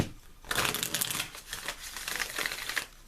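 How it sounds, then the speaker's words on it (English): Tarot card deck being shuffled by hand: a steady run of crisp papery riffling and flicking, close and fairly quiet, with no talking. "So I'm going to shuffle one more time."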